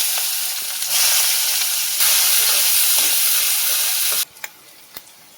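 Onions hit hot oil left from frying fish, a loud, close, steady hiss and sizzle that cuts off abruptly near the end, leaving a few sharp pops and clicks.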